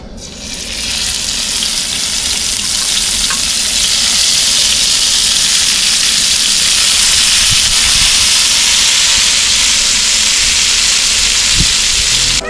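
Paneer tikka pieces roasting on a hot tawa, a steady loud sizzle and hiss of frying that holds evenly throughout with no talk.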